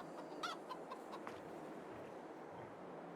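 Chickens in Farming Simulator 22 clucking softly at night in a coop, a few short clucks early on, then a faint, quiet ambience.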